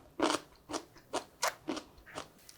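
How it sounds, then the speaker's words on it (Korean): Pickled watermelon rind being chewed, about eight crisp crunching bites in a steady rhythm, close up with no talk. "장아찌를 먹어볼게요. 아주 아삭아삭하니 아주 맛있어요"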